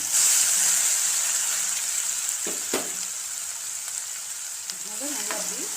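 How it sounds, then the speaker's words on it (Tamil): Garlic hits hot sesame oil in a pan, giving a loud, steady hiss and sizzle, with a few brief clinks and scrapes of stirring near the end. "தட்டி வச்சிருக்க பூண்டு 1 கப்பு பூண்டு எடுத்து இந்த எண்ணெயில் அப்படியே போட்டுக்கலாமா"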